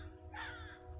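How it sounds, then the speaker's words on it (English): A crow caws outdoors, a single rough call rising out of a steady low background hum, moderately close and alone with no talk. "Y'all hear them birds?"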